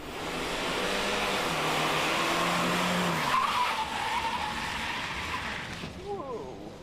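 A SAAB 9-5 Aero braking hard on a track skids with a long, loud tire squeal and scrubbing roar that slowly fades, and a voice is heard speaking near the end.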